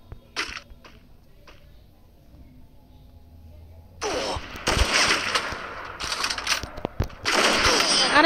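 Sniper rifle gunfire in a video game starts with a few sharp isolated cracks, then turns into loud, dense bursts of shots and impacts in the second half.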